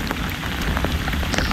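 Steady rain pours down during a thunderstorm while out fishing, a loud, dense hiss of drops close by, continuous for the whole stretch with no voices.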